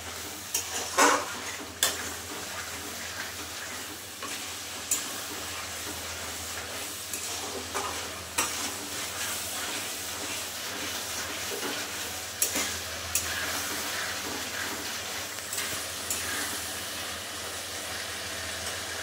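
Spice paste with potatoes and a little water is stirred in a pan, giving a continuous sizzle with repeated scraping strokes and occasional louder clanks of the spoon, steady throughout with no talking.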